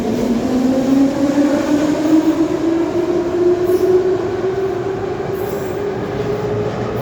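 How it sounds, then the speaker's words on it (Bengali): A Soviet-built Kiev metro train pulls out of Palats Sportu station, its loud rumbling roar carrying a rising motor whine as it accelerates away, wheels clattering and squealing faintly on the rails. "কিয়েভের মেট্রো সোভিয়েত ইউনিয়নের হাতে তৈরি, প্রচণ্ড শব্দ।"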